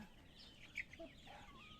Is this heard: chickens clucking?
yes